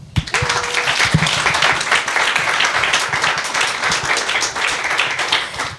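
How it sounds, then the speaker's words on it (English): An evening audience at a book talk applauds warmly, dense steady clapping from many hands filling the room and continuing evenly throughout. "big round of applause for Nick"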